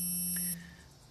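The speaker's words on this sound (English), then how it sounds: "I have a phone call coming in." An incoming-call beep from a cell phone rings as a single high electronic tone that fades out after about half a second, over a steady low hum, with no speech.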